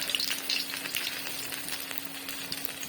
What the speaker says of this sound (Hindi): अभी समोसे भी फ्राई करते हैं